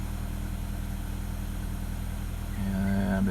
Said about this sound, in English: Engine starts up.